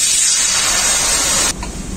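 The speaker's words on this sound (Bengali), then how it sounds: "কড়াইতে জল দিয়ে দেব" A steady loud hiss of water being poured into a hot wok on a stove, strong and close for over a second, then cutting off abruptly to a quieter simmering sizzle.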